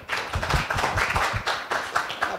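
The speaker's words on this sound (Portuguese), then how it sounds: "mais uma vez, uma salva de palmas aos dois, o Eduardo e o Rafael" Several people clap together in a short round of applause, moderately loud, with uneven overlapping claps.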